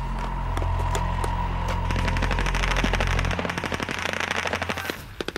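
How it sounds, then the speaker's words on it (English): Machine gun fire during a British Army night training exercise: sustained rapid bursts of automatic fire that break into separate sharp cracks and shorter bursts toward the end, loud and fairly close. "The attack began with flares and machine gun fire"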